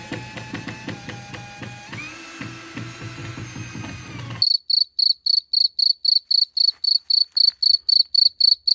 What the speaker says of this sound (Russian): Первый раз в жизни увидел сверчка.